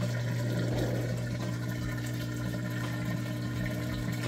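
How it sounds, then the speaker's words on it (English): Continuous gushing rush of water draining through a Maytag HE washing machine pump, with a steady low motor hum underneath, fairly close and unbroken. "You hear it draining that water out nice and fast."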